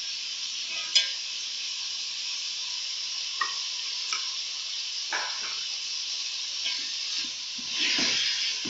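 Ground garlic and ginger paste frying in a pan for fried qeema: a steady, fairly quiet hiss of sizzling oil with occasional spoon clicks and scrapes, swelling louder near the end, no one speaking.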